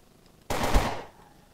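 A single loud, close burst of AK rifle fire in a zombie survival video game, a rapid stream of shots lasting about half a second before fading out.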